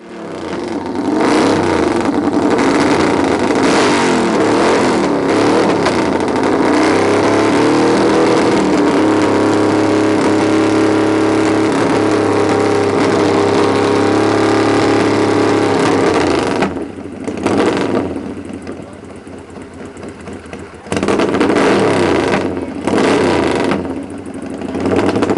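A flat track racing motorcycle engine, newly fitted into its cleaned-up frame, runs loud and close, revving up and down in surges with a steady idle stretch in the middle and a brief dip before it picks up again.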